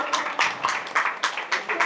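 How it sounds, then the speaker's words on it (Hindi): A small group claps close by to welcome a new treasurer at a Signature Greens gathering, about eight crisp, evenly spaced claps in quick rhythm with no talk over them. "तालियां बजा के स्वागत किया जाए"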